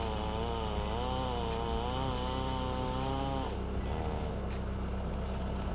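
A chainsaw cutting a tree runs loud and close with a steady buzzing whine. Partway through, its pitch drops as it bogs down while clogging with sawdust.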